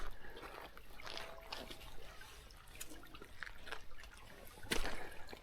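A small river trickles and dribbles over stones at a footpath crossing in remote country, a faint, close, uneven burble with occasional louder splashes.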